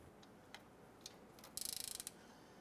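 A ratchet snugs a knock sensor bolt on a 2015-2020 Cadillac Escalade: a few isolated clicks, then a quick run of about a dozen close, crisp ratcheting ticks.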